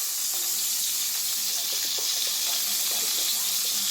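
French toast frying in a pan, giving a continuous dense sizzle with faint scattered crackles, steady and fairly close, no one speaking.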